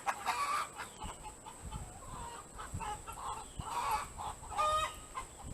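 Chickens in a backyard chicken yard cluck and murmur continuously at moderate distance, with several overlapping calls against a steady outdoor background.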